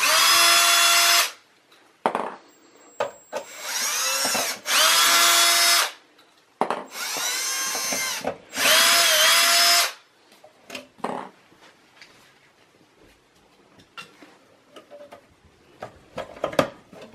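A cordless power drill backs out the power supply screws on a Dell Optiplex small-form-factor desktop, running in several loud whirring bursts of a second or two each, separated by pauses with light handling clicks and clatter.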